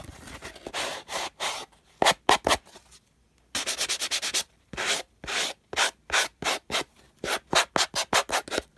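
Paper edges of a packing-paper journal distressed by rubbing, with rhythmic scraping strokes in quick bursts, loud and close, pausing briefly before resuming in a steady back-and-forth series.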